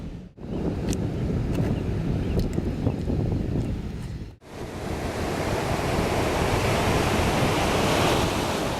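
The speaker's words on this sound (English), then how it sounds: "Yeah, getting windy, actually." Strong wind buffets the microphone in a continuous loud roar, with a brief drop partway through before the gusting rushes back even harder.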